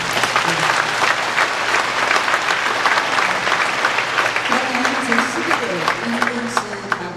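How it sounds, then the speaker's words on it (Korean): An audience at an art-song concert gives sustained applause for two composers and eleven singers, the dense clapping running throughout while a voice is heard faintly beneath it. "그래서 우리 두 분의 작곡가님 그리고 11분의 성악가님 무대와 같은 박수 부탁드리겠습니다."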